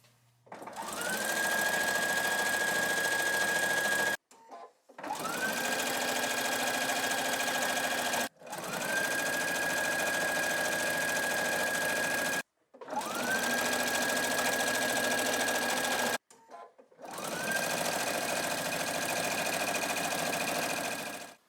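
A sewing machine quilts straight lines across a small modern mini quilt in five long steady runs, each a loud continuous motor whir, separated by brief pauses.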